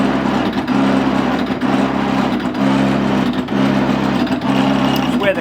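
A lathe with a ceramic-tipped tool cuts hardened, welded cast iron with a steady, loud, droning machine whine and a continuous grinding hum that persists without a break.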